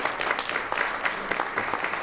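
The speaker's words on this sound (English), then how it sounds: "I just want to make sure we give Chrissy a big round of applause." Audience applause for Chrissy after an enterprise communications industry panel, a modest scattered round of clapping with a few sharper individual claps standing out.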